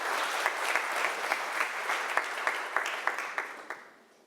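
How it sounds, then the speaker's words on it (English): A conference audience applauds a speaker in a sustained burst of dense clapping from a crowd that fades out toward the end, with no voices over it. "give a warm round of applause to Oliver"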